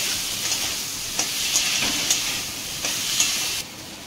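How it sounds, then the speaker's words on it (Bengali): Potatoes frying in oil-rich spice paste for a Bengali masoor dal, giving a close, steady sizzle and hiss with soft scraping stirs breaking through now and then. "আলু দিয়ে সামান্য কষাবো।"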